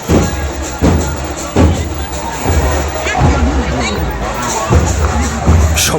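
Dense crowd hubbub at the Matua Mahamela fair in Thakurnagar, many voices babbling at once with occasional thumps, close and steady throughout.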